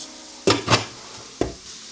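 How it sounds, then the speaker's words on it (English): Two quick metallic clanks as a lid is set onto a pot of rice and chicken, followed a moment later by a final clink, with a faint sizzle in the background. "We close our pot."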